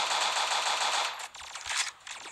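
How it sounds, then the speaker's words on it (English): Ranger rifle fire in Pixel Gun 3D: a rapid, loud automatic burst of bright gunshots for over a second, then a few shorter scattered bursts and clicks. "We need to use my ranger rifle."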